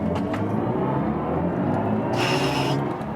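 A BMW i4 M50 electric car accelerates uphill with its boost sound engaged: a steady low cabin rumble throughout, then a bright synthetic tone swelling in near the end and holding for under a second.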